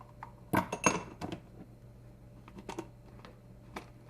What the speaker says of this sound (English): I'm going to chop up these pecans.